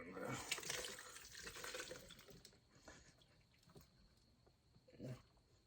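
A glass jar being rinsed under a running kitchen tap while hot sauce is made from garden peppers: water splashes and gurgles loudly at first, then fades to a quieter trickle with a brief surge near the end.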